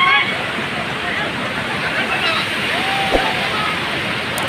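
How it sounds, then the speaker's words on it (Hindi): Water at Hadhadwa waterfall rushes and crashes in steady surging waves, a dense continuous roar with a crowd of visitors murmuring faintly in the background. "पानी बह रहा है, बहुत ज़्यादा लहर मार रहा है पूरा"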